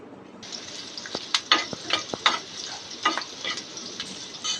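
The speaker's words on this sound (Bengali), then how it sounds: "আমি এখানে বাগারের জন্য একটি প্যানে তেল দিয়ে দেব, সাথে কিছুটা পেঁয়াজ কুচি দিয়ে দেব।" Chopped onions fry in hot oil in a pan as a tempering for mixed lentil dal, a steady close sizzle broken by scattered sharp scrapes and clicks of stirring.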